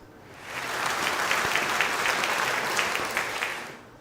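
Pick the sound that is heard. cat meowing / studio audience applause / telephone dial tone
studio audience applause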